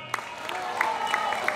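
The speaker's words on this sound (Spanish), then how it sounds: "Una vez más, el aplauso para Juan." Crowd clapping for Juan, a shopping-centre raffle winner, a continuous patter of hands with a few sharper claps and faint cheering mixed in, at moderate level.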